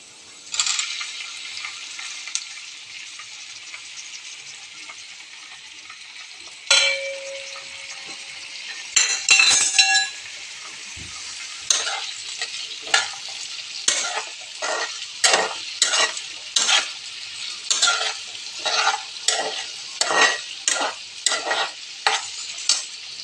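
Chopped lemons are stirred into date pickle in a pan, giving a faint sizzle and then a run of rhythmic scraping strokes that grow into a steady, regular stirring pattern, close and clear with no talk.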